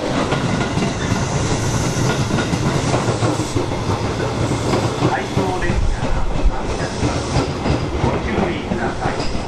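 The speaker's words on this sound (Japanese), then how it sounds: "回送電車が発車します。" A Tobu 6050 series electric train, running out of service, rumbles and clatters close by as it pulls away from a station, wheels clicking over the rails in a steady, loud roar.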